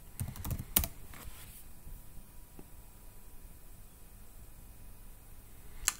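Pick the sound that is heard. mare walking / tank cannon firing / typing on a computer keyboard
typing on a computer keyboard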